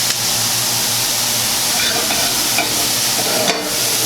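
Onions sweating in a pot for chicken chili give off a loud, steady sizzle and hiss, with a few faint stirring scrapes and no talk.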